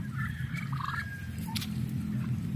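Backyard farm turkeys, kept alongside chickens and ducks, gobble faintly at a distance over a steady low rumble of background noise, with no voices.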